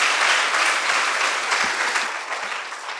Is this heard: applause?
yes